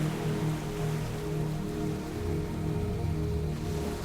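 Steady rain from a meditation soundscape pours down on a beach, an even, dense patter with a low, droning undertone that stays constant throughout.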